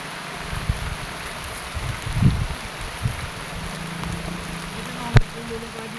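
Steady rain hisses on a tent while camping on a cloud-covered hill in strong wind, with some low thumps and brief scattered voices.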